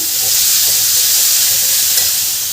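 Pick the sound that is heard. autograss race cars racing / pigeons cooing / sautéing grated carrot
sautéing grated carrot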